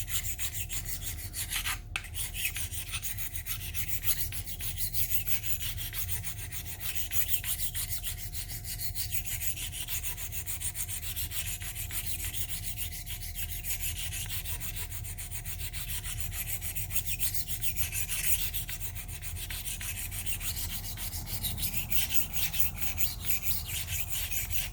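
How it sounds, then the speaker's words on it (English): Steady rasping of a double edge broadhead being sharpened, working the burr on the other side, a continuous close scraping rub that runs unbroken throughout with no talking. "I'm going to flip it over to the other side to where the burr is, and I'm going to work that burr the other direction."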